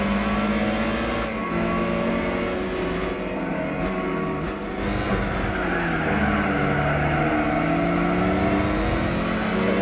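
A race car engine in the video game Gran Turismo 4 roars continuously and loudly, its pitch climbing and dropping through gear changes over the whole stretch, with no talking.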